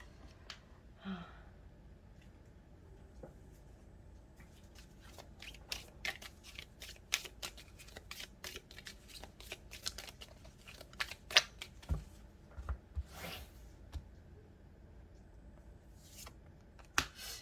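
Tarot cards being shuffled and drawn at close range, with a long run of quiet, rapid riffles, slaps and flicks in an irregular rhythm, mostly with no talk.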